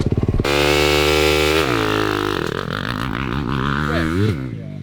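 A dirt bike on a deep sand motocross track in Florida, its engine roaring loud and close, revving with a rising and falling harmonic whine, sputtering at first, then climbing and wavering as the throttle works, with no talking.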